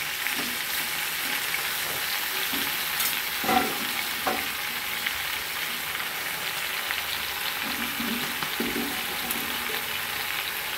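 Malabar spinach (pui shaak) fries in a wok with a steady bright sizzle, broken by a few scraping stirs of the spatula, close and fairly loud with no talk.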